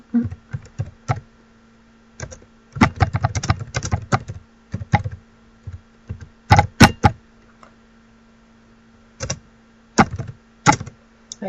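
Bursts of typing on a computer keyboard, quick runs of close, crisp key clicks separated by short pauses, with no talking.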